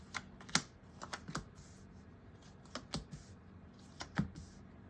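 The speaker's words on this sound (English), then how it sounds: "Alrighty, one more shuffle and booyah." Tarot cards shuffled by hand in short riffling bursts, a few crisp flutters and snaps spaced irregularly, close and fairly quiet with no talk.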